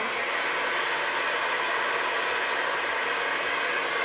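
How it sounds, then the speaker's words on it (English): A hair dryer blows continuously at full power, a loud, even whooshing hiss with no pauses. "Now we're gonna turn our dryer back on and heat this up."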